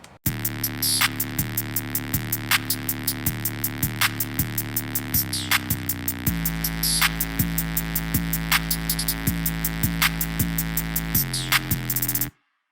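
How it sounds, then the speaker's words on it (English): A produced beat of deep 808 bass notes shifting pitch, sharp claps on a steady pulse, and quick ticking hi-hats layered over sustained synth tones, loud and continuous until it stops abruptly. "And with the 808, the claps and the hi-hat sounds like this."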